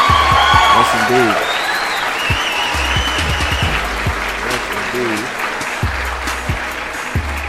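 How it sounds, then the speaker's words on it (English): A round of applause from a small group, steady clapping running throughout under someone speaking over it. "let me give my man Andrew a round of applause"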